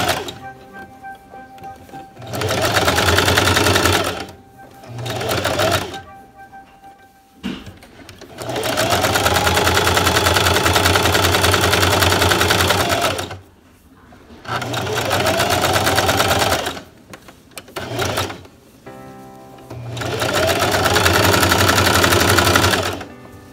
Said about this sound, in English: So you just straight stitch and zigzag around